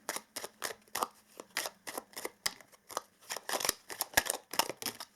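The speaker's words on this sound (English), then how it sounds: "Let's pull some Moonmagic cards in the end today." Moonmagic oracle cards being shuffled by hand, a steady run of crisp riffling slaps and flicks repeating close up with no talking.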